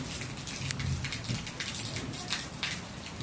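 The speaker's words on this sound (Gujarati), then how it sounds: "ગાજુ સાથે જોરદાર વરસાદ ખંભાળિયામાં" Heavy unseasonal summer rain in a thunderstorm pours down in a steady, dense hiss at night in Khambhalia, close and loud throughout, with a low rumble underneath.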